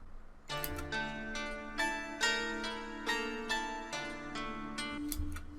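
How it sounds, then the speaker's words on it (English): An Omnisphere guitar preset run through a stereo shaper and reverb with the lows cut plays a steady, bright plucked pattern. Regular repeated notes ring close and clear, with no talking over them. "So I found this guitar preset in Omnisphere"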